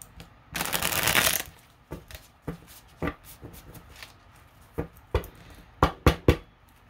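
A tightly packed tarot deck is shuffled up close, starting with a dense riffling burst and then breaking into scattered crisp card slaps and taps.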